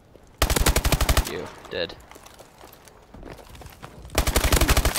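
Rapid automatic gunfire in the video game Call of Duty: Advanced Warfare, a loud burst at the start and another at the end, with a quieter stretch of game sounds and a voice in between.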